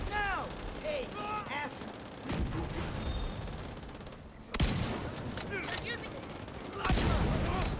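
Rapid bursts of gunfire in a video game ring out over a constant din of battle, with a voice talking through parts of it.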